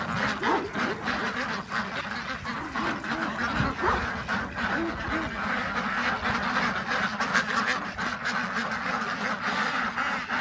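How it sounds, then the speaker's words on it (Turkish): Indian runner ducks and a yellow duck in a farmyard flock quacking steadily in a dense, continuous chorus, with some goose-like honks mixed in at close range. "sarı ördek de orada. Hint asker ördeği"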